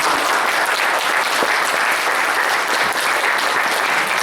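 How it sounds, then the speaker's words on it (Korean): A church congregation at a women's mission dedication worship service bursts into loud, continuous applause, dense and even from start to finish with no talk over it. "박수 한번"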